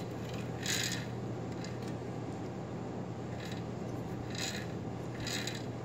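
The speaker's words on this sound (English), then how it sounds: "the noise you're hearing is because it's rubbing against that tensioner" An electric scooter's freewheel clutch spins freely, its wheel rubbing against a tensioner to make a faint, continuous mechanical whir with a low hum and periodic light scraping ticks recurring every second or so, heard close and alone.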